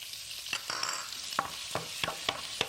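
Carrots, snap peas and baby bok choy sizzle steadily in a hot pan for fried rice while a spatula stirs them in several scraping, clinking strokes, close and fairly quiet.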